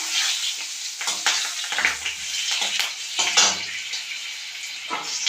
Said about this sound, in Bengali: তেলের মধ্যে আমি অল্প পরিমাণ কালো জিরা দিয়ে দিলাম, দুটো কাঁচা লঙ্কা দিয়ে